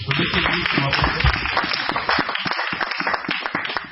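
A church congregation claps and applauds loudly and continuously in dense, overlapping applause, with voices mixed in throughout.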